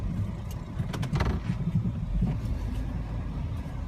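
A silver pickup truck's engine idles and runs steadily outdoors in snowy, rainy weather, a low continuous rumble with a few brief rattles and clicks near the start, no talking.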